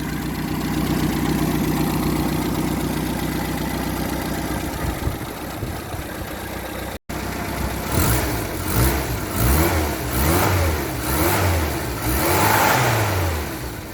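Classic budget car engine idling smoothly with a steady low rumble, then revving several times in rising and falling surges, heard close.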